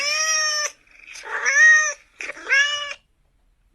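A house cat meowing three times in close succession, each call loud, drawn-out and tonal, with short gaps of silence between them and no voices over it.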